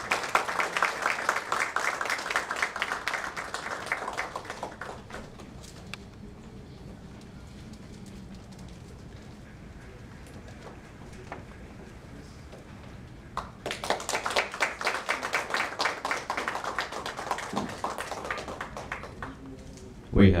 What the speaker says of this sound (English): A nice round of applause, ladies and gentlemen.